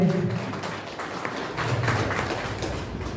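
Applause from an audience at a Phule and Ambedkar birth anniversary program, a steady wash of clapping held at moderate level for about three seconds with no talk over it.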